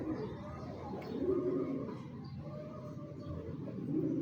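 Soft, low pigeon cooing repeats steadily throughout, close by, with faint background noise and no talking.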